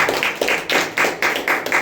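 A church congregation claps for the Lord in a brisk steady rhythm, about seven sharp unison claps, loud and close with no talk over them.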